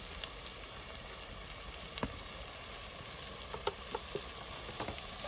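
Spices with salt and turmeric are fried and stirred for a bread vada snack. A fairly quiet, even sizzle runs throughout, with occasional small pops and scraping ticks.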